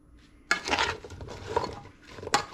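Chicken pieces being tossed by hand in a bowl with a little olive oil, with wet squelching and sharp clattering knocks against the bowl in two busy bursts, close and fairly loud.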